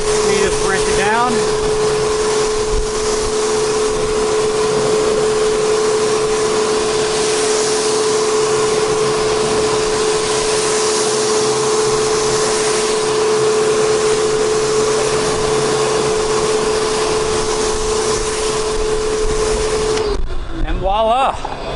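Car wheels being rinsed down with a water spray after brake dust cleaner: a loud, steady hissing spray with a constant motor hum close by, which cuts off abruptly near the end.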